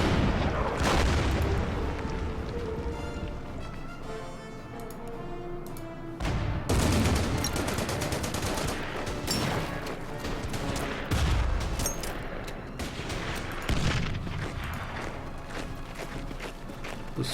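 Artillery fire in a World War II strategy war game set at Demyansk: repeated heavy booms and crackling volleys rolling through dense battle noise, loud and continuous with several sharp impacts spaced across the whole stretch.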